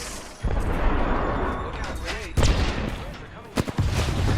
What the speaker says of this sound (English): How many nades do these idiots have?